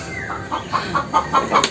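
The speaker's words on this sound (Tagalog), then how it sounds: "Sana hindi rinig yung mga manok." Chickens cluck in a steady series of short, repeated calls against constant background noise, fairly close and moderately loud.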